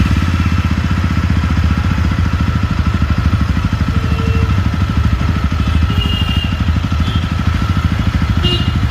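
A Yezdi Road Star motorcycle engine runs close by with the clutch held in, giving a loud, steady, even thumping throb at a constant low pace, with no talk.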